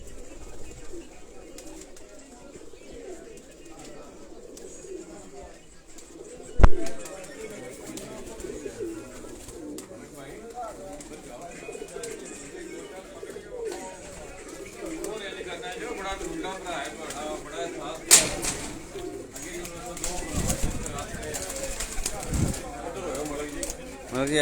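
Tournament racing pigeons in Sialkot coo softly in the background while someone talks over them almost throughout, with a couple of sharp knocks along the way.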